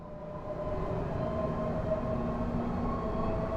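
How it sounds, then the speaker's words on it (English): Train in Train Simulator 2022 accelerating away from a station, a steady, loud rumbling drone with faint tonal whine layered on top, constant from start to finish. "Love the sound of the acceleration as you pull away."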